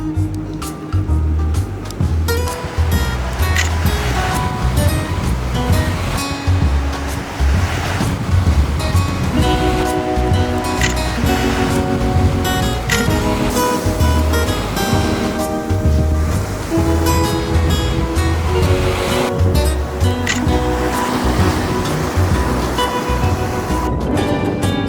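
Ocean surf washing onto the beach at Hanalei Bay on Kauai's North Shore, a loud continuous roar of breaking waves with wind buffeting the microphone and a low engine-like hum underneath.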